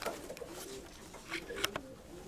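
A pigeon kept by a fancier gives soft, faint coos in a few short phrases, with quiet background noise and no talk.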